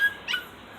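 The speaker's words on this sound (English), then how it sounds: "Puppies." On a homestead, puppies give a short, thin, high-pitched whimper near the middle of a quiet moment, close by and with no talking.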